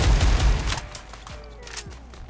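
Gunfire in the Roblox game Phantom Forces, a loud rapid burst at the start that fades into scattered distant shots and faint echoing tails.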